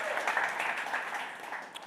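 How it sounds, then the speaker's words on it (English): Audience applause at the Minnesota Startup Awards 2022 ceremony, a brief steady patter of many hands clapping in a hall, moderately loud and tapering slightly toward the end. "Round of applause."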